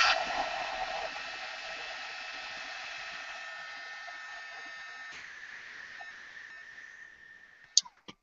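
A craft heat tool blows hot air onto brads, a steady close whirring hiss that fades toward the end before a couple of brief clicks.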